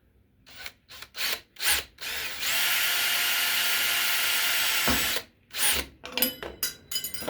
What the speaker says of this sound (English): we'll drill a pilot hole first